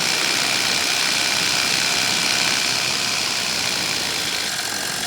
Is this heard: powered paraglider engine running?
yes